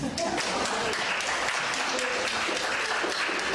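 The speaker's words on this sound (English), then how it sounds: "give yourselves a round of applause" Applause from a morning group gathering after members share their answers, a steady dense wash of many hands clapping at moderate level throughout, with faint voices mixed in.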